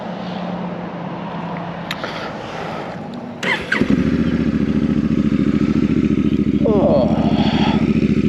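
A Honda Africa Twin motorcycle engine cranks and catches partway through, settling into a loud, steady idle up close after a few seconds of quieter background noise.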